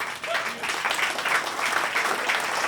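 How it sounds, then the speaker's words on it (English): A crowd applauds steadily at a live blues concert in a café, dense clapping that holds for a few seconds. "please keep that round of applause going"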